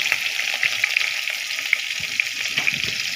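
Onion and green chili sizzle steadily in hot oil in a pan for noodles, a close, continuous crackling fry with occasional stirring and no voices.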